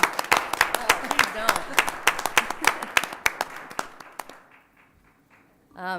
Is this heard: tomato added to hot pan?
no